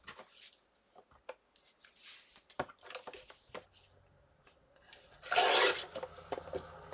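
Paper being trimmed for a Christmas folio notebook, with scattered soft rasping cuts and one louder, longer scraping stroke near the end, close by and with no talk.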